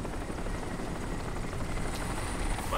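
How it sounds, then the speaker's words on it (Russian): A helicopter in the video game Crysis gives off a steady, loud rotor and engine roar that fills the whole stretch without a break. "Вертолет за нами летит."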